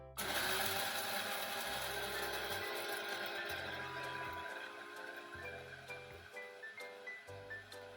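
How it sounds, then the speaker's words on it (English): A kitchen mixer grinder whirs at high speed while grinding dried orange peel into masala powder, a close, steady buzzing roar with a pulsing low throb that gradually settles. "now we just need to grind it"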